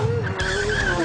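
A Pagani Zonda and a Bugatti Veyron launching off the line in a drag race, with loud tire squeal and rising engine whine surging together in one short, close burst.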